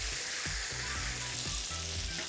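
Meat sears in a hot frying pan during a brief final sear, giving a steady close sizzle with a few soft taps and scrapes as the meat is moved.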